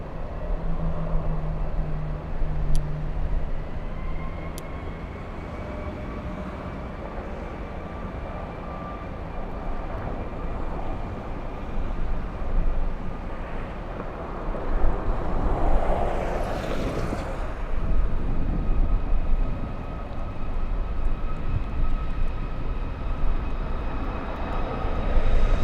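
Southwest airliner taking off from LAX runway 24 left, a distant jet engine roar that builds and swells midway, then holds under steady outdoor background noise.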